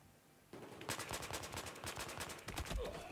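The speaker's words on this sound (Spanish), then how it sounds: "Me va a hacer una supresión brutal como empieza a disparar" Automatic rifle fire in Battlefield 4 from an AKU-12, a quiet half-second lead-in, then dense rapid bursts of shots running nearly continuously to the end.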